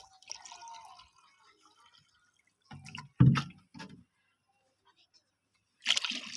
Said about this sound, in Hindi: आधा लीटर इसमें तेज़ाब डालेंगे